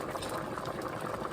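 A water-bath canning pot full of jarred apples churns at a rolling boil on the stove, giving a steady, close, dense bubbling wash that never lets up.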